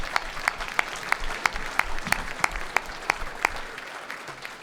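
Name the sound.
audience applause at a class reunion luncheon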